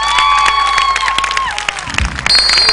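Studio audience clapping and cheering at a Turkish folk music television show, a loud, dense burst of applause with scattered shouts and whistles, a brief dip, then renewed cheering.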